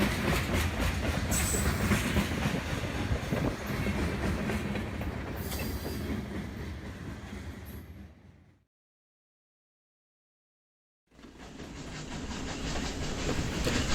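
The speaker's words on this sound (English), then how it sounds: "the distant sounds of wheels clattering over tracks" Train wheels clatter steadily over rail joints in a loud, continuous rumble with occasional high squeals, then cut to silence for a few seconds before the rolling clatter resumes.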